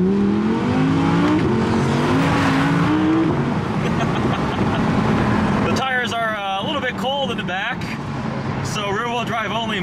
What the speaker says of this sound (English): We still have that glorious V10.